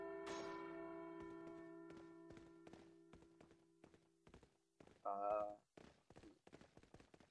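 A bell rings out clearly in Resident Evil 4, its tone ringing on for a few seconds, followed by a brief second metallic chime amid clicking footsteps.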